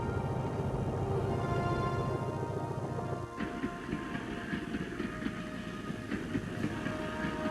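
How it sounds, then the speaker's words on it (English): A train loaded with troops, tanks and field guns rolls along rails in North Vietnam, a steady continuous rumble and clatter that shifts abruptly midway to a rougher, more metallic grinding with faint squeals, no voices. "trains loaded with troops, tanks, and field guns could move with no risk from attack"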